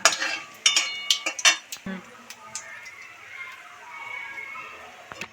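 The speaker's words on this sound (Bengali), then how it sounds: "ফোড়নটা ভাজা হয়ে গেলে এর ভিতরে মটরগুলো দিয়ে একটু ভাজ" Green peas tossed into oil with a bay leaf and cumin tempering, stirred in a pan. A run of sharp utensil clinks and scrapes comes first, then settles into a steady, soft sizzle.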